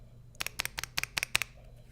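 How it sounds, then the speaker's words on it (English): Keys on a mechanical computer keyboard clack in a quick uneven run of about a dozen crisp, close strokes over a quiet background, with no talking. "There's a reason why I have this keyboard. Not only because it sounds amazing"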